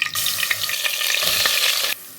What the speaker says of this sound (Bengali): এদিকে আমি পেঁয়াজ আর রসুনটারে ব্রাউন কালার করে ভেজে নিচ্ছি।